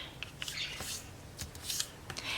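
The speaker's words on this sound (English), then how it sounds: "I take the paper and I fold it in half." Paper being folded in half for a miniature book, soft crisp rustles and creases close by, quiet and brief.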